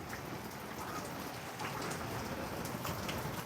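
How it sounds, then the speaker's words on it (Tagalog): Heavy rain falls steadily outdoors as a dense, continuous hiss of drops pounding surfaces, loud and unbroken throughout with no voices. "ganito kalakas ang ulan"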